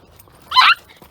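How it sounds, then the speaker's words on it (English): A small dog yelps once, a short, high, sharp cry lasting about a quarter second, close by against a quiet background. "My dog cries out fairly easily."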